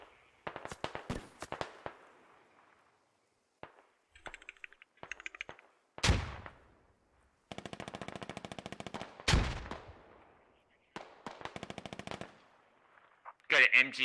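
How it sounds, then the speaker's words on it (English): Machine gun fire in a multiplayer war video game bursts in rapid, loud rattling volleys separated by brief silences, with heavier single blasts and a distant crack mixed in. "Got an MG on hill 123."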